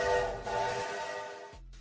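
A train horn blasts loud and close with a steady harmonic tone for about a second and a half, then cuts off abruptly.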